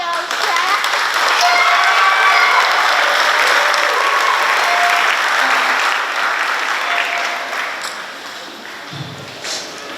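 A large graduation audience gives sustained loud applause that swells and then gradually fades toward the end, with cheering voices mixed into the crowd noise.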